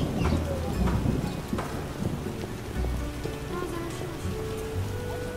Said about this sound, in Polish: Rozpadało się nie na żarty.